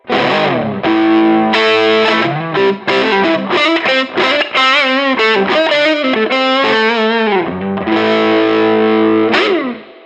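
Overdriven ESP LTD Mirage Deluxe 87 superstrat electric guitar plays a quick run of single notes with bends and slides, loud and continuous, no voices.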